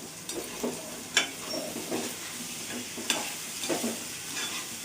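Onions frying in a pan, a constant crackling sizzle with repeated stirring scrapes and taps of a spoon, close and moderately loud, without talk.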